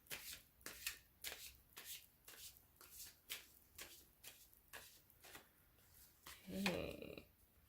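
Tarot cards are shuffled by hand in a quiet room, a quick run of about a dozen crisp riffling bursts at a steady rhythm, close and soft, ending with a brief handling clatter.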